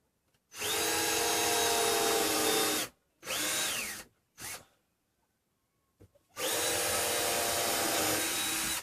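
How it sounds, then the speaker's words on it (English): A power drill pre-drills a screw hole in a used, already cracked 2x4 while a flat-screen TV is mounted in a motorhome. It sounds close and loud: a long whirring burst, two short ones, a pause, then another long run. "Now I do want to pre-drill it"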